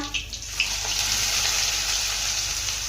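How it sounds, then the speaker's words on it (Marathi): Finely chopped onion hitting hot oil with cumin and curry leaves in a pan, a steady loud sizzle close up, with a few early pops, no talking. "नंतर एक मोठा कांदा बारीक चिरून घेतला आहे यामध्ये घालूया"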